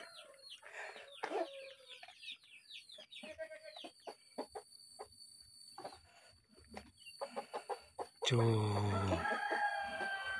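Chickens cluck and crow in a village yard beside a coop, near and fairly loud in bursts throughout, with a short spoken syllable and a sudden loud wideband rush near the end.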